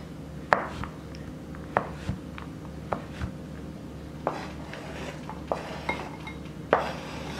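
A knife chopping Andes mint candies on a board, sharp irregular taps about once a second against a low kitchen hum, close and fairly quiet.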